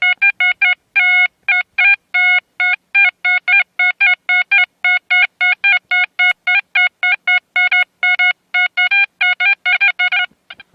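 A metal detector sweeps for coins and silver, giving a steady run of short, loud electronic beeps in quick, even succession for about ten seconds, each pulse a bright multi-toned signal with no voices over it.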